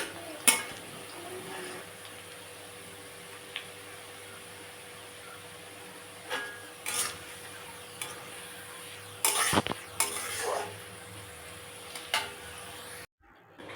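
Fried onion beresta being stirred and lifted out of hot oil for chicken biryani, with a low steady frying hiss and a handful of sharp scrapes and clinks of a utensil against the pan, spaced irregularly and fairly close.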